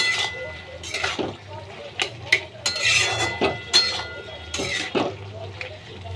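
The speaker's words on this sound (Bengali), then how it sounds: "দিয়ে একটু নাড়িয়ে দিতে হবে।" Spices being stirred in a pan for a bottle gourd and prawn curry: repeated metal clinks and scrapes of a spoon against the pan, sounding close and irregular over a low hum.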